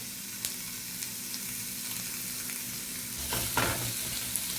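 Chorizo fries in a dry pan at a Mexican street food stall, with a steady close sizzle and a few faint clicks, growing slightly louder near the end.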